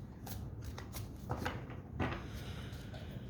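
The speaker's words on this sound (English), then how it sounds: "I shuffle until it feels like I'm done shuffling" A tarot card deck being shuffled by hand, a run of soft riffling and flicking bursts in an uneven rhythm, close and quiet, with no voices.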